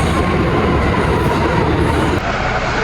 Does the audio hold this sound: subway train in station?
yes